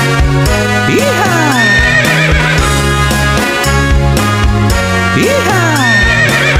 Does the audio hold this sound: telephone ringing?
no